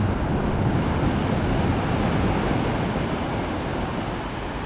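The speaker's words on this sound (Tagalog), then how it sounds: "Laki ng alon" Big ocean waves at Sabang beach in Baler, Aurora, heard as a loud, continuous roar of surf blended with wind buffeting the microphone, without any voices.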